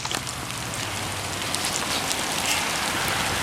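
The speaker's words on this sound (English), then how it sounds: "of course it's raining down here" Steady rain patters on the ground and water along the Coldwater River in wet outdoor conditions, a dense, even hiss with scattered close drops and no voices.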